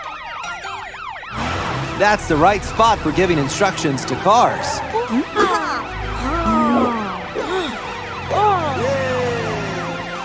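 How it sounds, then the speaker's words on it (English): A cartoon police truck siren wails up and down repeatedly, loud and close, while a voice talks over it and traffic rumbles underneath. "Is that a police siren?"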